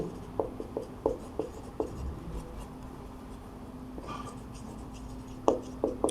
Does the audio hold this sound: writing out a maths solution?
yes